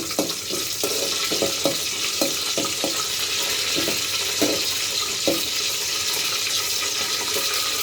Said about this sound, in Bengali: গরম মশলাটা আগে দিয়ে নেবেন, হালকা করে ভেজে নেবেন